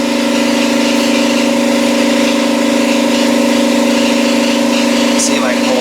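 Air compressor running steadily in a tire repair setting, a loud continuous droning hum with a strong even tone and no breaks.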